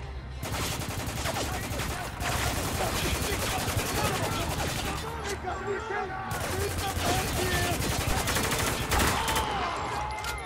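Sustained gunfire in the war shooter Spec Ops: The Line, with dense automatic bursts and overlapping shots running loud and continuous throughout, while voices shout over the firefight.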